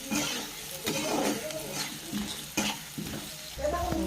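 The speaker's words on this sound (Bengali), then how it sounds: "এবার আলুটা অ্যাড করলাম" Potato pieces tossed into a frying pan and stirred while frying, for a Bengali cabbage dish, with broadband sizzle, spoon scrapes and clatter, and a few faint voice-like bits.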